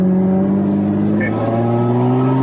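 A Toyota Land Cruiser 105 heard from inside the well-insulated cabin as it pulls away in first gear, its engine a steady, muffled drone of rising tone that holds level throughout, with no talking.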